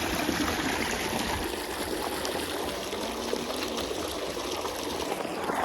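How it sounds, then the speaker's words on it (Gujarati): Tap water runs steadily while clothes are being washed, a continuous close hiss and trickle of flowing water throughout with no speech. "આમાં કપડાં ધોવાના ચાલુ કરી છે અને અહીંયા પાણી ચાલુ છે"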